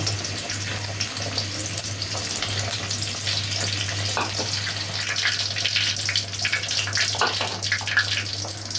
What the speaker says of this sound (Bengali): তেলটা গরম হয়ে গেলে পেঁয়াজ কুচি আর চার পাঁচটা শুকনো মরিচ বেজে নেব